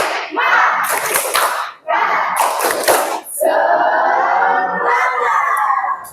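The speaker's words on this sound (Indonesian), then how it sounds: "tepuk semangat" A classroom of junior high students in Jember, Indonesia, performs a rhythmic spirit clap cheer, loud sharp bursts of group clapping alternating with chanted voices in distinct sections.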